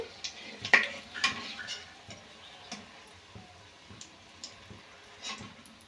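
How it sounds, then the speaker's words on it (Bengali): Egg patties frying in oil give a soft, steady sizzle with small irregular crackles and pops, close and fairly quiet, with no voices. "একই রকমভাবে সবগুলো ভেজে নেব তুলে নেব আমি"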